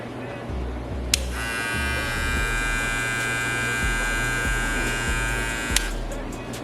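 A Babyliss Lo Pro FX limited edition hair clipper switches on with a click and runs with a steady, close electric buzz for about four seconds, then clicks off, over faint low background hum.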